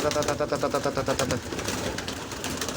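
Pigeons coo in a loft during a snowy spell, a soft rhythmic burbling series of calls heard close, while someone talks over them.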